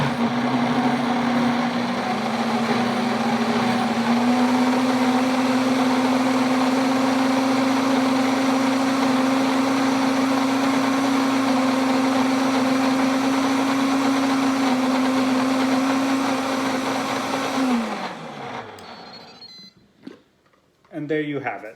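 A food processor blending homemade hummus runs with a steady high motor whine for about eighteen seconds, close and loud, then winds down and stops, followed by faint handling noises.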